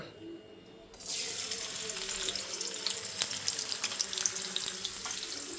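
Cashews and raisins fry for adaprathaman, a Kerala sweet, giving a steady close hiss and sizzle that swells suddenly after a second and continues with light crackles.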